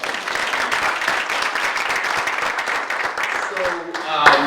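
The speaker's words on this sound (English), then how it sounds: "give them a round of applause." Applause from an audience at a 100th kick-off program in Brockton, steady clapping filling the room for several seconds with some talk mixed in.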